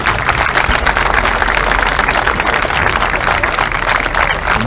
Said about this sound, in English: If you guys will give them another round of applause.